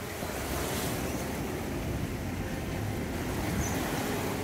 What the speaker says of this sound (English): we just got hit by a crazy storm.